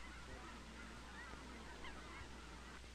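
Snow geese honk faintly and at a distance during a steel shot field test. A few scattered calls rise over a low, steady background hum.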